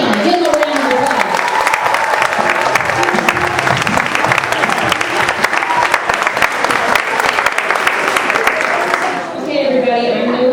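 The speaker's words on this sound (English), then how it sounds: "Give them a round of applause." Sustained, dense applause from a large crowd, loud and steady for several seconds before easing slightly near the end.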